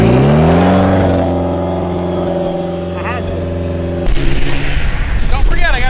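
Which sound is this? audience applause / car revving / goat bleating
car revving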